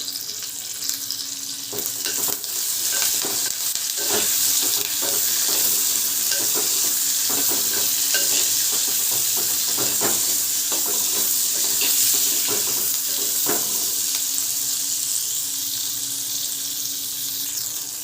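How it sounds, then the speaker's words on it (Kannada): Curry leaves crackle and sizzle steadily in hot oil in a pan for green chilli thokku, with scattered sharp pops and occasional utensil scrapes, loud and close throughout with no talking. "ಇದಕ್ಕೆ ನಾನು ಸ್ವಲ್ಪ ಕರಿಬೇವು ಹಾಕೊಳ್ತಾ ಇದ್ದೀನಿ ಸೊ ಇದನ್ನು ನೀಟಾಗಿ ಫ್ರೈ ಮಾಡ್ಕೊಂಬಿಡೋಣ"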